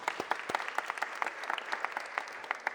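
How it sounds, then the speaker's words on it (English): Audience applause for the mayor at a Philadelphia press conference, a steady patter of many hands clapping with sharp individual claps standing out, fairly close and continuous throughout. "Let's give the mayor another round of applause."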